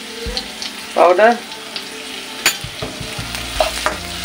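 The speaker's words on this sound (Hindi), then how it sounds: "हरी मिर्च और अदरक मैंने डाल दिया है, अब इसे सॉटे कर लेते हैं" Green chili and ginger sauté in a hot pan, giving a soft steady sizzle broken by a few sharp spatula scrapes and taps, with one brief spoken word.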